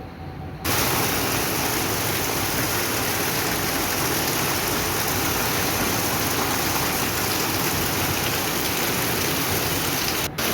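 Heavy rain pours steadily in a dense, unbroken wash that starts suddenly and keeps up at full strength throughout, close and loud, with no voices.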